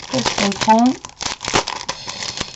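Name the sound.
handling paper sheets for card making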